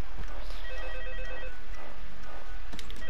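A phone rings in the video game Five Nights at Freddy's 2, faint electronic trilling half-buried in loud, dense, noisy ambience that fills the whole moment.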